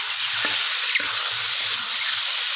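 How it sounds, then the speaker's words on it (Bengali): Boiled mushrooms fry in hot oil, giving a steady bright sizzle with a few soft knocks and stirring clatters near the start; no voices. "মাশরুমগুলো একটু ভেজে নেব।"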